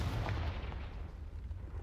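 A Confringo fire spell blasts in Hogwarts Legacy, a loud booming burst with a low rumble that rolls on steadily through the moment, no voices over it.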